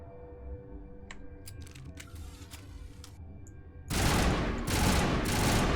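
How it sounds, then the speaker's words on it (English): Full-auto assault rifle fired in bursts in Mass Effect Legendary Edition; quiet clicking and ticking menu-like sounds give way to loud, dense gunfire bursts that fill the last two seconds. "Burst fire."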